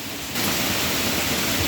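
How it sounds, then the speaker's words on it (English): Steady rain falling outside a house in Louisiana, a constant broadband hiss of drops that starts abruptly and continues evenly, with no voices. "we're finally getting some rain."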